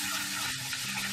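A butter and honey mixture bubbles and sizzles steadily in a pan for sweet potato fries, giving a close, continuous frying hiss with no voices.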